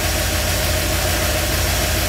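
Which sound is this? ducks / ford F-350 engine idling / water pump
ford F-350 engine idling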